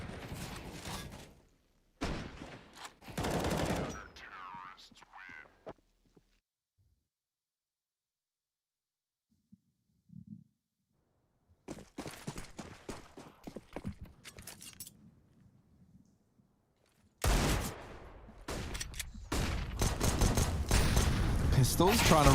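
Gunfire from a Counter-Strike match, pistols among the weapons, comes in bursts separated by near-silent gaps, with the heaviest exchange loud and sustained at the end; commentators talk over parts of it.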